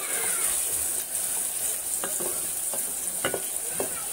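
Vegetables and onion with green chili and tomato frying in a pan as a spoon stirs through them, a steady close sizzle broken by several sharp scraping strokes in the second half, no talking.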